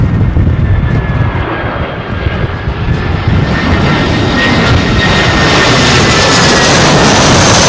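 Airliner passing low overhead on arrival to runway 27L at London Heathrow in very windy conditions, a loud continuous engine roar with buffeting wind noise filling the whole stretch.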